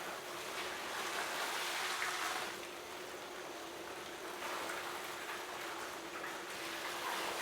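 A hose sprayer nozzle pours out water at 4 gallons per minute onto a panel, a steady broad rushing hiss that runs the whole time, close and moderately loud, rising slightly at the start and midway.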